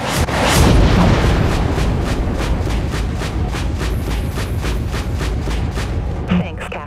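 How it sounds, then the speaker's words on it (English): Vulture missiles launching in the space warship game Dreadnought, a rapid regular volley of about a dozen sharp launch bursts after an initial heavy boom, loud and close, with voices talking over the barrage. "Launching vulture missiles."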